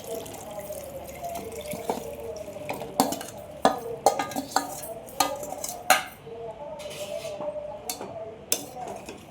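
A metal spoon clanks and scrapes against a cooking pot as cut jackfruit is mixed into fried masala, sharp irregular knocks spaced a second or so apart over a soft wet background.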